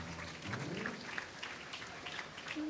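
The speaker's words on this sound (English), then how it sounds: "a round of applause for our presenters" Audience applause for award presenters at a gala ceremony of the WSA Global Congress 2013, a steady wash of many hands clapping filling a large hall, fairly even throughout with no voices over it.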